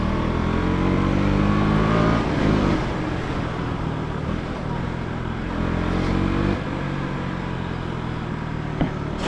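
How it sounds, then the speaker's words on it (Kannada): A KTM Duke 200 single-cylinder motorcycle, a BS6 model, idles loudly and steadily. Two throttle blips, around the two- and six-second marks, rise and fall back with each downshift. "ಒಂದ್ಸರಿ ಥ್ರಾಟ್ಲನ್ನ ಬ್ಲಿಪ್ ಮಾಡಿ ಗೇರ್ ಡೌನ್ ಮಾಡಿದ್ರೆ ಮಸ್ತ್ ಸೌಂಡ್ ಬರ್ತದೆ"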